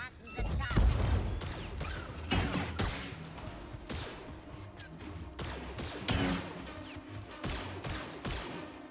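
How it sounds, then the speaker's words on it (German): Blaster gunfire in Star Wars Jedi: Survivor comes as sharp repeated shots, whooshes and crashing impacts in an irregular combat barrage, with speech now and then. "Irgendwo sehe ich noch Schüsse."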